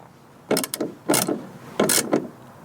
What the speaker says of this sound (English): with a 1/2-inch wrench, you're just going to tighten it up snug